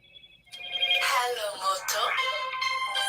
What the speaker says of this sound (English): the phone always rings when I'm trying to go live.